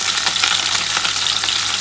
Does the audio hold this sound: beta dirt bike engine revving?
no